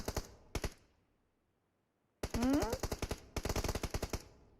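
Rapid bursts of automatic gunfire from a shooting game, two short volleys, a pause, then longer sustained firing with a rising whine mixed in.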